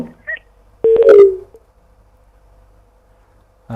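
A telephone line tone follows a dropped call during a call-in legal talk programme. A short, loud beep is followed by a faint, steady line tone in otherwise near silence.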